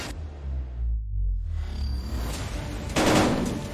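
Rapid gunfire in a VR shooter game: dense, continuous bursts of shots with a booming low end, a brief lull, then a sharper, louder burst near the end, with no talking.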